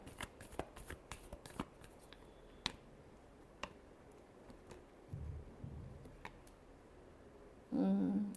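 Tarot cards are shuffled by hand in a quiet room, a series of soft crisp flicks and taps scattered across the stretch, a short riffling burst midway and a louder rustle at the end.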